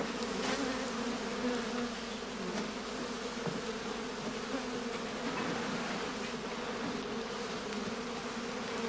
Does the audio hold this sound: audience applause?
no